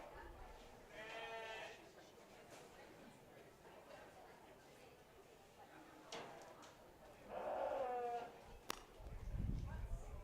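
Lambs bleat in the market classes of a county fair sheep show, with a couple of clear calls rising over steady crowd chatter and background voices, moderately near.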